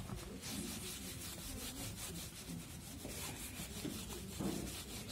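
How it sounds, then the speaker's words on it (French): A welded metal part, being checked for cracks after penetrant testing, is scrubbed clean with degreaser in rapid, repeated rubbing strokes, close and moderately loud, with no talk. "On va nettoyer la pièce. Donc ça, on met un dégraissant."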